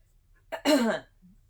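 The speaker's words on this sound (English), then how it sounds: "I am coughing off and on, and sniffling" A single short, throaty cough sounds close up, preceded by a quick intake of breath, then quiet.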